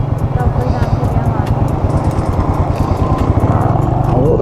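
A motorbike engine runs steadily up close as it crosses a stream on a rough mountain track in Neelum Valley, rattling and rising slightly toward the end, with rushing water and background voices underneath.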